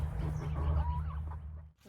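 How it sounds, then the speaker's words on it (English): A rooster crows once, a drawn-out call over a steady low hum of background noise, fading out near the end. "So we've got one rooster crowing."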